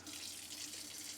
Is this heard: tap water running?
yes